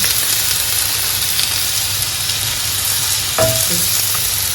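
Butter and garlic paste frying in a pan, a loud continuous close sizzle with a steady crackling hiss, broken near the end by a brief scrape or clink of a utensil.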